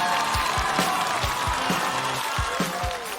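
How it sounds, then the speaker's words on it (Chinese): An audience at a stand-up comedy show applauds and cheers a comedian taking the stage, a dense, steady burst of clapping with some crowd noise that tapers off slightly at the end. "掌声欢迎杨仔儿"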